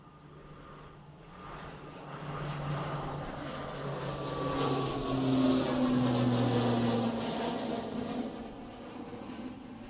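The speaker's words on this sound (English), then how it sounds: "Nice little prop departure now, Aer Lingus." An Aer Lingus propeller airliner departs Manchester Airport, a steady droning engine roar with a low propeller hum that builds and swells toward the middle, moderately near and heard alone without talk.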